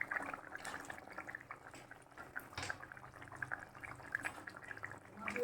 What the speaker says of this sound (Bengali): এরকম বন্ধুরা ঝোল ফুটে গেছে, এবার মাছগুলো আমি দিয়ে দেবো